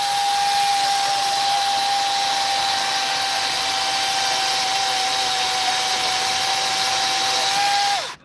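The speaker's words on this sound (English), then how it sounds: "Here's the new chainsaw right here." A steady, loud motor whine from a 20-volt battery chainsaw runs continuously for about eight seconds at a constant pitch, then cuts off abruptly at the end.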